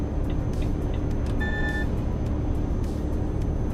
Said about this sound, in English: The beeping sound you hear, Zato, is the lane keep assist.